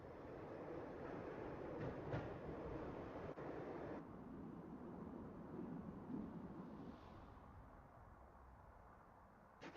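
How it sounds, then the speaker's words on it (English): Train rolling along its tracks in the video game Max Payne, a steady rumbling rail ride heard alone with no talk, its texture shifting midway and easing slightly toward the end. "When the train he was riding slowed down, Gagniti made his move."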